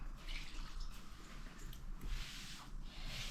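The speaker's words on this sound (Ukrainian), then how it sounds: "все падає, все капає" Water dripping and splashing at a sink during washing up at home, a steady wet patter with faint running-water noise throughout, close and moderately quiet, no talk.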